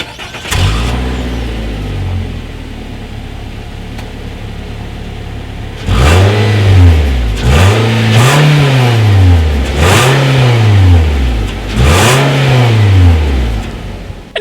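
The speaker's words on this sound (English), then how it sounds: "here is that exhaust clip" A 2018 Nissan Altima with dual chrome-tipped exhausts revs up close: one short blip, a pause, then four rising-and-falling revs in a row.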